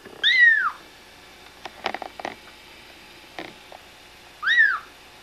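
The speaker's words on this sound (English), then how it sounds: "That's a little stray cat that David just picked up." A stray cat gives two clear, close meows several seconds apart, with faint handling rustles and small clicks in the quiet between them.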